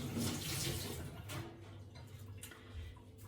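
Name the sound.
tap water running while wetting hands for baking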